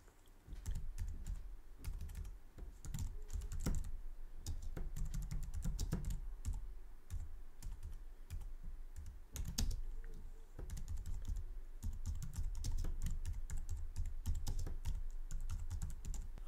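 Someone types an NFT name on a computer keyboard, producing quick irregular clicks and key taps in bursts with brief pauses, close and fairly quiet, without any talking.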